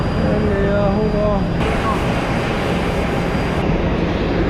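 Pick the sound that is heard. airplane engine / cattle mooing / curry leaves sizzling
airplane engine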